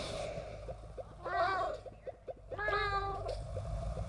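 Two drawn-out cat meows from the video game Crossy Road, close and clear, with light background game sounds between them.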